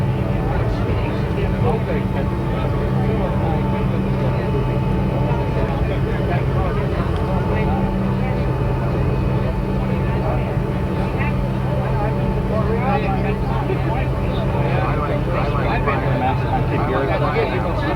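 A passenger airliner taxis onto the runway before takeoff on a 1986 flight to the Bahamas, its engines a steady low drone inside the cabin, with people talking over it throughout.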